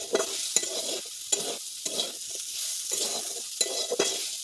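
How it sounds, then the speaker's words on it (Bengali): Chow mein ingredients with salt and turmeric being stirred and fried in a wok: a steady sizzle under repeated scraping stirs and occasional spatula knocks against the pan, close and fairly quiet, with no talk. "নেড়ে চেড়ে ভেজে নিচ্ছে"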